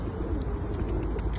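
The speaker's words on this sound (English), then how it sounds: "We finally got a pigeon." A rescued pigeon in Stockport coos softly in low, throaty murmurs over a faint background hum, with light high chirps scattered through.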